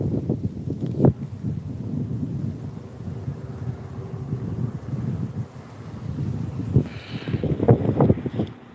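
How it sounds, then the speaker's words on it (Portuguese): Strong wind blasts across a mountaintop, a continuous gusty roar buffeting the microphone, swelling and easing in loud rumbling waves with no voice heard. "O vento está forte aqui, mas eu vou tentar falar da melhor forma possível para vocês"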